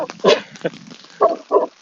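A dog out on the run behind a fence in a Pacific Northwest setting gives several short, loud, nearby barks in an irregular burst, with faint voices around it.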